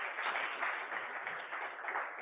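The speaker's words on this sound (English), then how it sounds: "let's give him a round of applause" Audience applause at a Python user group meetup after a presentation, a steady, continuous wash of clapping that holds at an even level for a couple of seconds.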